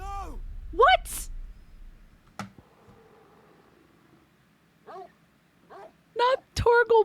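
Torgal, the dog in the video game Final Fantasy XVI, barks in a few short, sharp bursts separated by long quiet gaps, the last ones coming in a quick cluster near the end.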